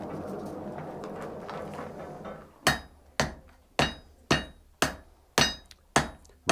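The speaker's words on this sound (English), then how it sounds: "Might want to choke in on your hammer just slightly" Hammer striking metal while forging a point at a War of 1812 historic fort, eight sharp ringing blows at an even rhythm, each fading quickly, loud and close after a stretch of quieter background noise.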